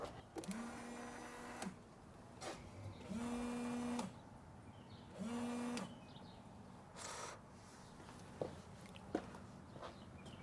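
Toyota RAV4 rear washer sprayer running, its small electric pump whining in three separate bursts of a second or two, faint, with soft clicks and handling noises between.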